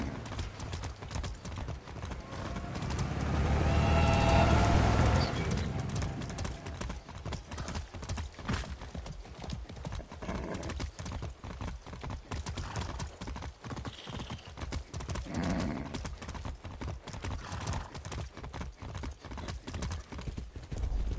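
Steady, rapid clip-clop of horse hooves galloping without pause in Far Cry 6, with a brief horse whinny early on, no talking.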